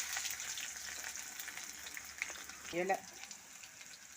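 Onion, fennel seed and spices fry in hot oil, giving a soft, steady crackle under a faint voice and a brief clink near the end.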